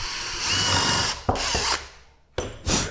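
A power drill bores countersinks into cheap lumber for a wooden Christmas tree build. Short, close whirring bursts start and stop with brief pauses between them, with no talk.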